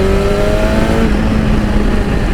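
A 2016 BMW S1000RR sport bike's engine roaring steadily at high revs on the road, loud and continuous with a brief tonal whine early on.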